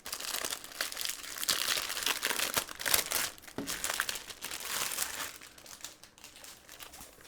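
Plastic packaging around Hobonichi Animal Crossing planner covers is crinkled and torn open by hand, a close, steady stretch of crackling and rustling with brief sharper rips and no talk.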